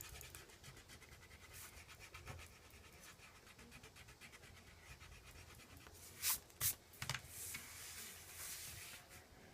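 Pencil drawing and erasing on paper while ferns are finished in an illustration: soft continuous scratchy rubbing throughout, with a few sharper brisk strokes near the end, close and quiet, no talking.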